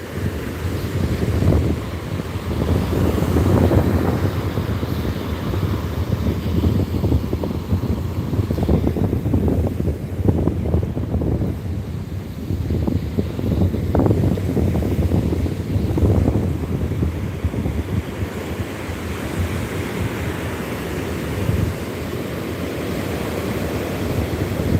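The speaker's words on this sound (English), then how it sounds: "I hiked up here so I could be over here to show you the beautiful waves." Ocean surf and steady wind roll at the Channel Islands dunes in Oxnard, a continuous loud wash with heavy microphone wind buffeting and no talking.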